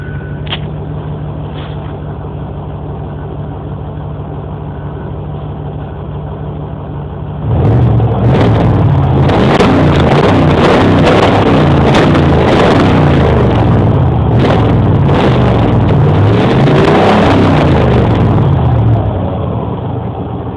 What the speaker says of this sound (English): And that completes the exhaust sound.